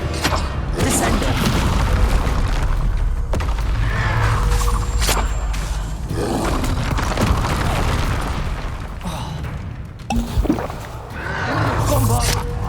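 Bombarda spell blast in the Hogwarts Legacy PC game: loud booming explosions and crashes layered over dense battle effects and music, with a voice speaking during the fight.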